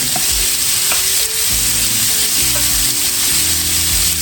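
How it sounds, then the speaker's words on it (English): Ground beef browns in a hot pan for a dirty rice dish, giving a steady, loud sizzle throughout with occasional scraping stirs and utensil knocks against the pan, close up and with no voices. "And we're gonna brown this meat."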